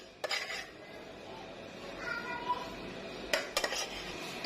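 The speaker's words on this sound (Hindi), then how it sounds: "तो अब मैं इसको डिश आउट करती हूँ।" Spoon scraping and clinking against a pot as dum keema, minced meat slow-cooked and fried for an Eid ul Adha meal, is dished out: a few sharp metallic knocks near the start and a cluster near the end, with softer scraping between.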